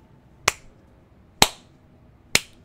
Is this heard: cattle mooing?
no